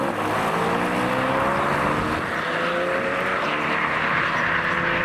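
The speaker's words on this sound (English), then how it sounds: "It is nice to have a long straight road for accelerations as the cars depart." Modified cars and supercars accelerate hard on a long straight road, a loud, continuous engine roar with rising tones as the revs climb, heard close throughout.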